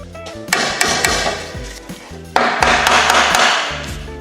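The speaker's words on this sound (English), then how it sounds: "I'm going to grab my hammer and just give it a couple of light taps" Several light metallic hammer taps seating a part on a C8 Corvette being rebuilt, irregular rhythm, close by, over a background of broadband noise.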